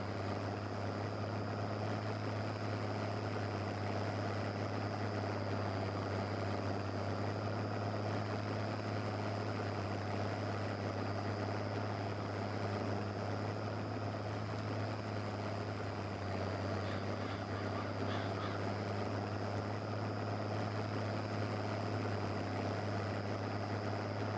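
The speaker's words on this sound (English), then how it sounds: "I don't know what is in the ground that's making this enormous tractor rock like that." A vintage Oliver tractor engine runs steadily while driving on a farm, a constant loud low drone with a strong humming tone and rough rumble throughout, no talking.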